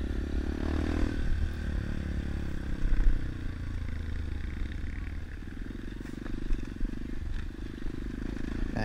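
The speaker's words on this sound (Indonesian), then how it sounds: "Ini pengawalnya langsung tancap gas itu sih." A motorcycle rides a dirt trail through the forest on Mount Raung, its low engine rumble surging as it accelerates, with loose clattering and scraping from the rough ground.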